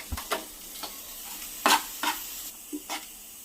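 A horse gram and garlic spice mix stirred in a pan off the heat, giving soft scraping strokes and light clinks of a spoon against metal, a few separate close movements with a quiet background and no talk.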